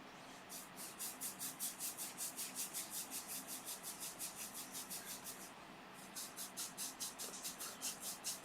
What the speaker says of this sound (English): really rubbing it, that there's real friction